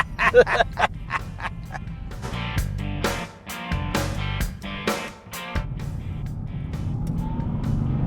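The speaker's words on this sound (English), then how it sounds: "You hear the supercharger?" A supercharged 2014 Cadillac CTS-V engine revs in sharp repeated bursts, rising and falling with a whine over a low rumble, loud and close, then settling into a steady drone.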